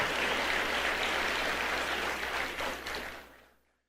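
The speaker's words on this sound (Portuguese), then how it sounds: "Uma salva de palmas para Jesus." Applause from a church congregation at a Brazilian worship service, a broad steady wash of clapping that holds loud for about three seconds before tapering off into silence.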